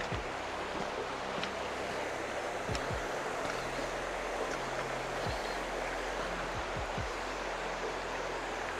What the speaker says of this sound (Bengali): আওয়াজ পাচ্ছ নদীর